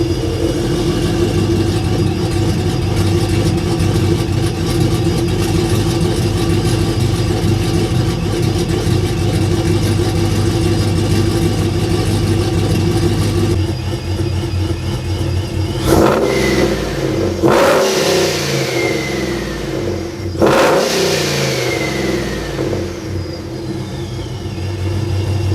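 A Ram truck engine revs with its exhaust cutout closed, a steady mid-pitched idle rumble broken by two sharp, loud rev bursts that rise and fall near the end.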